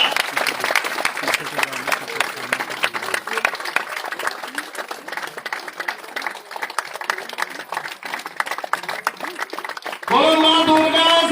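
An audience at an International Women's Day gathering claps long and hard during a lamp-lighting ceremony, giving dense, sustained applause. At the end a voice speaks over it.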